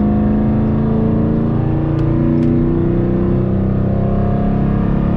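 A Dodge Charger's engine roars steadily as the car gets up to speed, a loud, continuous drone heard from inside with no letup for the whole stretch.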